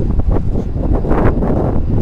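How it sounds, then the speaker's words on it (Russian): Steady wind buffeting the microphone, a constant rumbling roar with gusts swelling and fading throughout, no voices. "Ветер."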